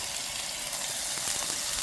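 Steady, bright crackling sizzle of chopped green onions hitting hot oil, close and fairly quiet, with no talking.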